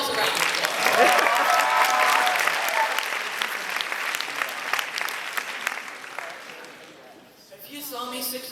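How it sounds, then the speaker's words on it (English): An audience at a convention speech claps loudly in a sustained burst of applause that gradually fades, followed by a short stretch of speech at the end. "Give yourselves a round of applause."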